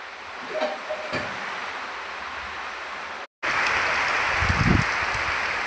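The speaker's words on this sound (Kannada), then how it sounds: "ಜೋರು ಗಾಳಿ ಮಳೆ" Steady hiss of heavy rain with low gusty rumbles of wind buffeting the microphone, briefly cutting out midway before returning.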